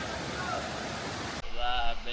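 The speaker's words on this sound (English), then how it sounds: "The waterfalls." Steady broadband rush of a waterfall in the Marilaque mountain area, loud and continuous, shifting to a nearer, harsher roar partway through as the position changes.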